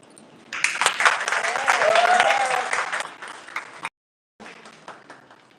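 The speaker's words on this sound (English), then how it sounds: "Let's give our first candidate a round of applause." Audience applause at a Mister World Philippines pageant, a burst of clapping from a crowd that swells, holds for about three seconds, then cuts off before a few scattered claps return.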